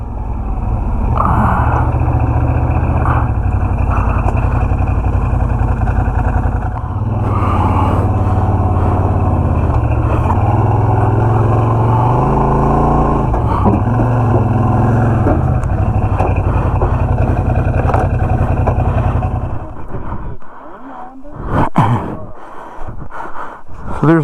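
Old Mercury pickup truck with bullet holes driving rough rural roads, its engine droning low and loud with rattles and bumps for about twenty seconds before the drone drops away into clunks and knocks.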